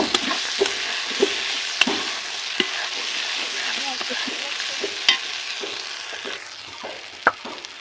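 Spice masala for mutton curry sizzles in oil while a spoon stirs it and knocks against the pan, giving a continuous close frying hiss broken by scattered scrapes and taps.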